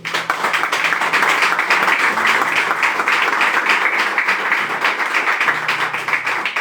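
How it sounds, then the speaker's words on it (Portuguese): Loud, sustained applause from a church congregation, dense clapping filling the whole stretch without a break. "Aplaudir o Senhor"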